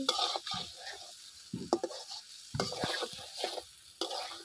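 A potato and cornflour snack, served as a pasta-style dish, is stirred in a pan with a spoon, giving close, intermittent scraping strokes with short pauses between them over a faint sizzle.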